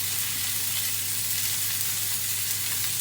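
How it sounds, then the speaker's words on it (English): Onions frying in steak juices in a pan give off a constant, close, crackling sizzle with no break and no voices. "We're going to pop the onions in first, so they caramelise all the juices from the steak."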